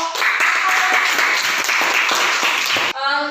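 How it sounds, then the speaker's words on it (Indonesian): Classroom students clapping together for a presenting group, a steady, fairly close burst of many hands that stops abruptly near the end, with a brief voice after. "kita berikan tepuk tangan untuk kelompok"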